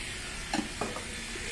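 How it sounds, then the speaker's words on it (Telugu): Oil is poured into a frying pan while semiya upma is prepared, producing faint, close sizzling with a couple of brief soft splashes over a steady low hiss. "ఇప్పుడు ఇది అదే ప్యాన్ లో ఆయిల్ పోస్తున్నాను"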